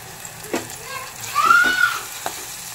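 Curry leaves and turmeric frying in oil for mutton curry, a steady hiss with a few soft pops and a brief swell of sizzle, close, with a voice speaking faintly over it.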